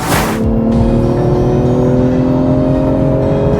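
The six-cylinder engine of a 2021 BMW M340i pulls hard and accelerates steadily, its rising drone loud and close, with a brief burst of rushing noise at the start.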